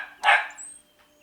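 A dog gives one sharp, close bark, followed by a brief faint high whine before it fades to quiet.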